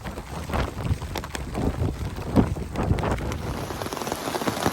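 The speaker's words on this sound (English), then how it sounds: "Okay, raining. And it'll probably be raining for the next hour or two." Rain falls on a hiking trail in Tennessee or Virginia, a steady, close patter of drops with a few heavier splats and some wind noise on the microphone, and no voices.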